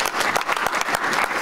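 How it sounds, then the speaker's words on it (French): A church congregation at a worship service claps loudly and steadily, many hands producing a dense, rhythmic wash of applause close by with no voices rising above it. "Nous applaudissons très fort pour notre Dieu parce qu'il est bon."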